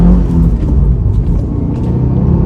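2023 Subaru WRX Premium accelerating hard in first gear, a loud cabin-heard engine rumble that swells steadily as revs climb, with no talk over it.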